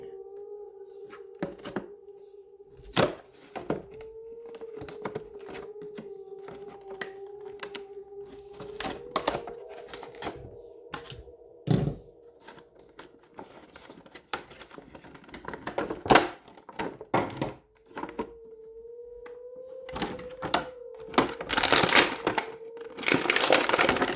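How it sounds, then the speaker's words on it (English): A Sonic EXE figure is pulled out of its packaging with a series of sharp plastic crinkles, crackles and clicks, sparse at first and growing busier and louder toward the end. "I'm going to take it out of the packaging"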